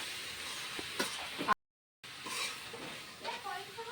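Aloo gobi palya being stirred and fried in an oiled pan, a soft sizzle with scraping stir strokes, broken by a brief silent gap mid-way, with faint talk in the background.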